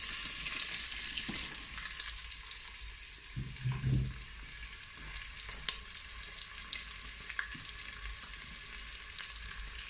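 Onions fry in oil inside a Cookeo multicooker, a soft, continuous sizzle with occasional stirring knocks and a brief low rumble in the middle, fairly quiet throughout.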